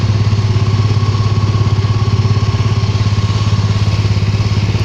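A hot rod engine runs in second gear on the road, a loud, close, steady low rumble with a fast even pulsing throb and mechanical clatter throughout.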